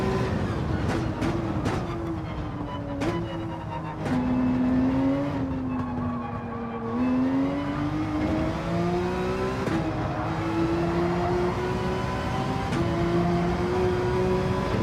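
Race car engine in Gran Turismo 7 on the reversed Nürburgring, revving hard through shifts with rising and falling pitch sweeps, loud and continuous across the whole lap section, with no talking over it.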